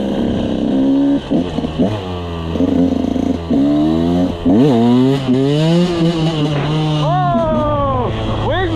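A motorbike engine revs up and down in repeated rising and falling swells while riding and braking, loud and close, with sharp climbs in pitch and brief drops between throttle bursts.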